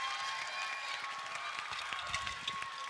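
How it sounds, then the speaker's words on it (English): Scattered audience clapping at a talk by a former LEGO master model builder, sounding fairly distant and soft under a faint steady tone, with uneven claps rather than a roaring ovation. "Let's give him a nice round of applause."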